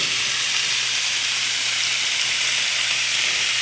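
Steak searing in a pan for a steak and snow pea stir fry gives off a steady, loud broadband sizzle and hiss that runs unbroken for a few seconds with no talk.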